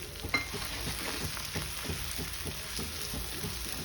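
Chilies, tomatoes and capsicum sizzle and fry in a hot pan for Surti paneer gotalo, a steady close crackle with soft stirring scrapes running throughout.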